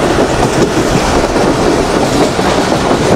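A passenger train running from Islamabad to Multan in Pakistan, with a loud, steady rumble and continuous clickety-clack of wheels on rails, no voices.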